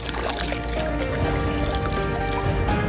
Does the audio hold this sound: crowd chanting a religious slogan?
no